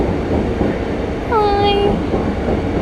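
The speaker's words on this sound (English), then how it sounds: "There goes the train." A train passes through a station with a continuous low rumble, and a brief high metallic squeal of wheels rises midway before fading back into the roar.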